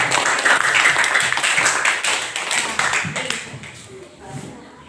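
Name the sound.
classroom children clapping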